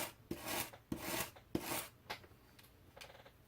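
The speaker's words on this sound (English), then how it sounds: "take a wire brush to it. Let some of the underneath primer shine through" Wire brush scrubbing across painted wood to distress it and expose primer, in several rasping strokes of about half a second each, fairly close, with no talking.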